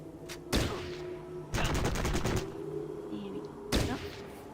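Gunfire in Fallout Tactics, with single loud shots and a quick rattling burst of automatic fire, separated by short pauses over a steady background hum.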